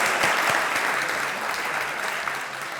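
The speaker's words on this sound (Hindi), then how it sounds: "तालियां हो जाए एक बार फिर से" A studio audience on a comedy talk show claps steadily and loudly, a dense wash of applause that fades only slightly over a few seconds.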